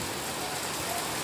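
Heavy rain falling in a steady, dense hiss on surfaces outdoors, constant and fairly loud throughout with no pauses.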